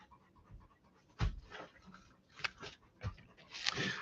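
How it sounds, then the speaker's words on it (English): Two dogs pant after about a mile-long walk, quick soft breaths coming in uneven bursts close by, with a few louder huffs and no talking. "You can hear them both panting."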